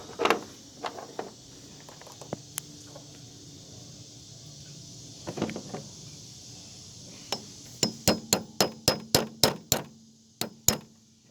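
Metal pins are tapped into the master cylinder of a 2004 Ford F150 4x4 through an extension on a truck tailgate: scattered light hammer strikes at first, then a steady run of about a dozen ringing metallic taps close by.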